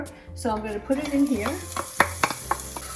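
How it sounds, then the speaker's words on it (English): Diced shallot sautéing in olive oil in a pan for a three-cheese lasagna, with soft sizzling and scraping stirs under a person talking nearby. "you want your onion or your shallot to saute for about 2 to 3 minutes"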